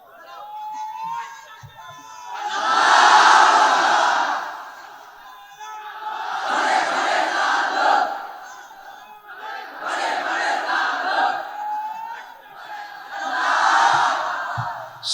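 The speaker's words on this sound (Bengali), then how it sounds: "তাকবীর দেন দেখি সবাই, লিল্লাহি তাকবীর।" A large crowd at an Islamic sermon gathering shouts takbir in unison, four loud, swelling roars of massed voices, each lasting about two seconds, separated by short pauses and a lone voice leading the call.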